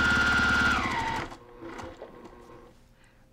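A sewing machine stitches yellow pillow fabric along a marked quarter-inch line, running loud and steady for about a second before stopping, followed by quieter handling noises.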